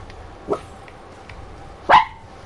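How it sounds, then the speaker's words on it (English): Two sharp dog barks in an Elden Ring game scene, a smaller one first and a louder one about a second and a half later, over a low background hum. "that's enough barking"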